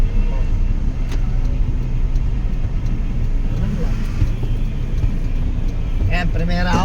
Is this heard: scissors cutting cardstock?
no